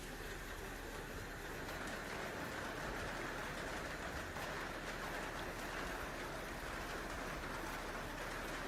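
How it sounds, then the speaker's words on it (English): Heavy rain and hail pound down during a severe storm in Gauteng, South Africa, making a dense, steady roar that holds evenly from start to finish with no voices. "Large hailstones and heavy rainfall were recorded across these regions."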